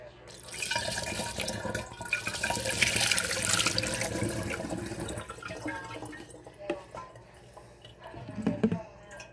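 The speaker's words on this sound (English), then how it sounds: "And then we'll add more hot water." Hot water pours from a kettle into a strainer for a tea of marigolds and lemon balm, a steady splashing trickle that slows and stops, then a short clatter of a pot as a voice speaks.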